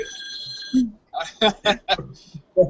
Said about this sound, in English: Your rotary phone is ringing.